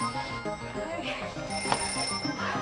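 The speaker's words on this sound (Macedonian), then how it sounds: "Телефон." A telephone rings with repeated bell tones at low volume, with voices nearby over the ring.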